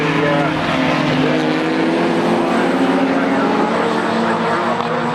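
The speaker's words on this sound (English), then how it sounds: "Paul Moss in the Citroen Saxo." A Citroen Saxo racing car at Croft circuit gives a loud, steady engine drone that holds throughout, with a voice talking over it.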